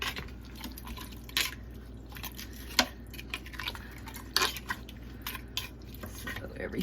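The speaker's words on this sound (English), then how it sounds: "I'm going to stir this up now." A spoon stirs a chicken and sausage cassoulet in a cooking pot. It gives soft, scattered scrapes and a few sharper clinks over a low, steady background hum.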